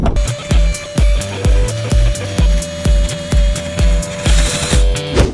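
An orbital sander grinds loudly and steadily over wooden planks, with a regular pulsing rhythm as it passes back and forth, no voices.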